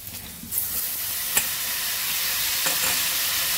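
Fried potatoes and leafy greens sizzle steadily in a hot pan, a continuous close hiss broken by a few sharp clinks of stirring.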